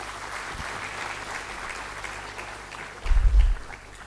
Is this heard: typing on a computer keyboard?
no